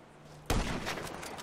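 A sudden loud gunshot burst in Grand Theft Auto V, a sharp crack followed by a short ragged volley of further shots fading into the background.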